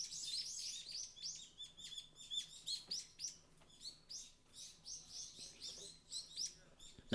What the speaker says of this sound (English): The birds are loud in this video.